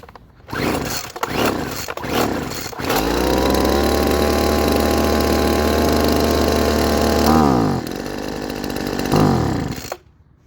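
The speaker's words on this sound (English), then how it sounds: "So it ran, as you guys saw, but it bogged down when you wanted to rev it up" Small two-stroke leaf blower engine, newly fitted with a replacement carburetor, starts after several rough pulls and runs steadily at a loud, buzzing idle with one brief dip and surge near the end, alone without talk.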